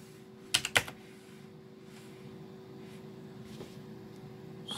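Computer keyboard being typed on, a quick cluster of a few sharp, close clicks near the start followed by faint scattered taps over a low room hum.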